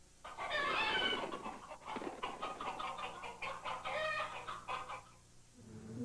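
A group of chickens perched in trees clucks and squawks continuously in a busy, overlapping chorus that stays close and fairly loud, then fades near the end.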